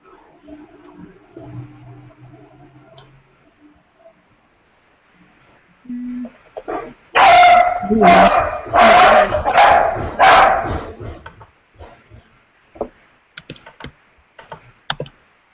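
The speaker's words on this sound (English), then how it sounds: "Please excuse my dog if you can hear her barking" A dog barks at a washing machine indoors, a burst of several loud, close barks in quick succession, followed by a few sharper isolated yips. Faint keyboard typing and soft background sounds come before and after.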